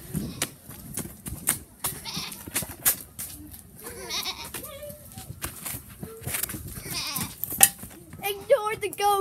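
A pet goat bleats in short repeated calls at close range amid a noisy backyard game of tag, with children's voices and clatter around it.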